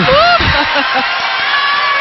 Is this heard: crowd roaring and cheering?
yes